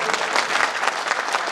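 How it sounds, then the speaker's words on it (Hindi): Loud audience applause at a Hindi poetry recital, dense and steady, filling the room from start to finish. "एक बार जोरदार तालियां नीरज के लिए बजा दीजिए।"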